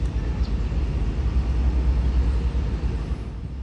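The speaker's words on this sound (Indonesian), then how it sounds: "Ada suara raungan mesin." A diesel bus engine roars at a busy bus terminal in Pemalang, a steady, loud low rumble that fills the whole stretch without letup, heard alone with no talking.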